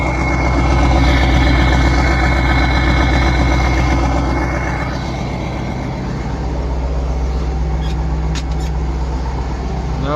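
A Kirovets tractor's heavy diesel engine idles steadily while warming up, a loud, continuous low rumble throughout, easing slightly in level partway through with a few faint clicks near the end.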